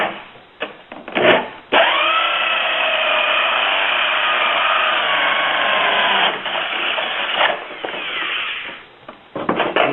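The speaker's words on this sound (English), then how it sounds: "when you drill your holes" A power drill with a hole saw of about 2 inches bores through material for a solar air heater, giving a loud, sustained whine with pitch dips under load, bracketed by short bursts of handling noise.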